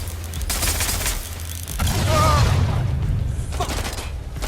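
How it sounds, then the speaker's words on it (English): Gunfire in a tactical police video game, dense bursts of shots and rapid automatic fire that swell loud through the middle and stay close, with brief voices and mechanical clatter mixed in. "I'm getting shot at here!"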